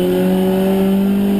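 Racing cars in the BMW Compact Cup at Snetterton: a steady, loud engine drone with strong harmonic tones holds throughout as cars brake late and overtake into a corner, with no voices.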